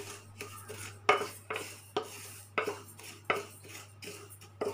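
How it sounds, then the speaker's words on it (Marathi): Mustard seeds and kalonji dry-roasting over low heat in a pan for green mango and chilli pickle: a spoon clinks and scrapes against the pan about twice a second over a steady low hum, close and without voices. "आता आपण याला थोडं थोडं भाजून घेऊया"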